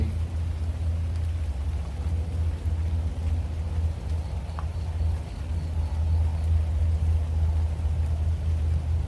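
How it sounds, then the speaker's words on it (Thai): Heavy rain pouring down over an open outdoor stage area, a steady dense wash of falling water with a low rumbling undertone, continuous and fairly loud throughout. "ฝนตกหนักมากเลย"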